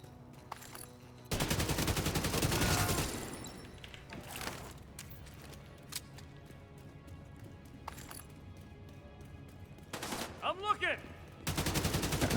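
Gunfire in a shooter video game, loud dense bursts of rapid shots separated by quieter stretches with single sharp cracks, close and punchy, and a voice speaking in the gaps.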